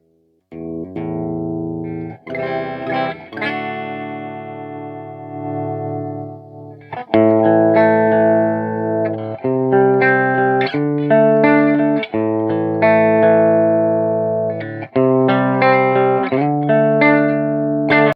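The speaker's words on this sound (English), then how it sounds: "We're going to start with the clean channel, and let's go." An electric guitar played through the clean channel of a mini Mesa amp head, with clear sustained chords and arpeggiated notes ringing loudly for the whole stretch, and no talking.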